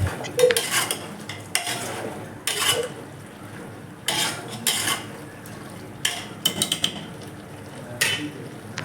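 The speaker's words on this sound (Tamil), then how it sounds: "உருளைக்கிழங்கு சேர்த்து நல்லா கொஞ்சம் நேரம் கிளறி விட்டுட்டு" Chopped potatoes are stirred in a pan with a metal spoon, making repeated loud, close scraping and clattering strokes in an irregular rhythm, with faint sizzling beneath and no talk.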